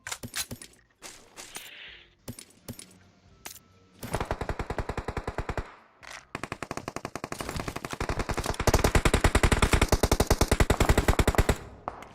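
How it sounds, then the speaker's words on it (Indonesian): Automatic gunfire in the battle royale game PUBG Mobile, loud rapid bursts of shots in long rattling strings with short pauses, preceded by a few scattered single shots and clicks. "Ya, yang jauh nembak."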